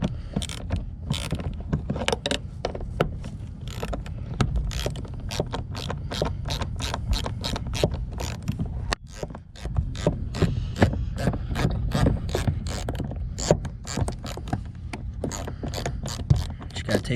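A ratchet wrench with a 10 mm socket backing out bolts on an R32 GTR, rapid close clicking in repeated bursts with short pauses between strokes, alone without talk.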